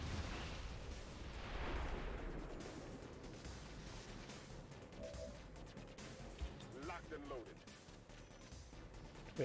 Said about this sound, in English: That is a solid explosion.